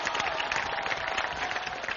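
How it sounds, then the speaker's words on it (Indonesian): A studio audience applauds on a Metro TV evening talk show, producing steady, dense clapping that fills the whole stretch at a moderate level and never pauses. "Kita tepuk tangan dulu untuk Hari Kebangkitan Nasional."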